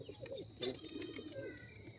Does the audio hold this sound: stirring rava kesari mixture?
no